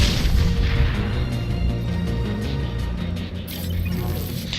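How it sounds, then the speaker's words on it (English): A big explosion as a Ymir mech is destroyed with a head shot in Mass Effect 2, a heavy rumbling blast with sustained low-end roar and debris crackle throughout, loud and close with no talk. "They have a big explosion effect if you kill them while taking out their head"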